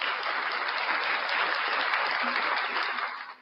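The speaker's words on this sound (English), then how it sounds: "Round of applause for you guys, the best fans in the world." Crowd of fans applauding together, a continuous dense clatter of many hands held at an even level before tapering off at the close.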